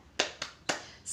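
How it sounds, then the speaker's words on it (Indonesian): Schoolchildren in a sixth-grade class do a rhythmic spirit clap, three sharp separate hand claps in quick succession with a fourth starting at the end, close and crisp with no talk. "Ayo, kita tepuk semangat dulu ya."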